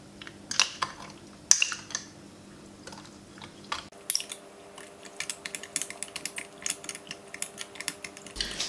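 Yeast water being stirred into a mixture in a glass for homemade beer, heard as irregular light clinks and taps of a utensil against glass, close and fairly quiet, with no talking.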